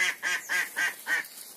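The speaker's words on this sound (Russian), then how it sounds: "Вон она сидит, крякает." A duck sitting near its duck house gives five evenly spaced, loud, nasal quacks at close range, each call short and raspy, with brief gaps between them.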